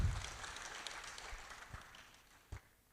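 An event audience gives brief, scattered applause that fades out, with a couple of sharper claps near the end; fairly faint and distant in a large hall.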